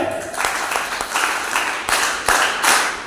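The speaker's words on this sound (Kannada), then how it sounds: "ಚಪ್ಪಾಳೆ" An audience of NSS students at a talk breaks into applause: rapid, uneven hand claps in several clustered bursts, fairly loud and close, with no speech over them.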